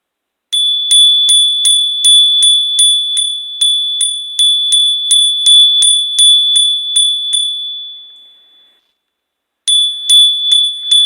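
A small high-pitched bell rung rapidly and repeatedly during a spiritual cleansing, bright metallic dings in quick succession that fade out, then resume after a brief silence; loud and close with no talking.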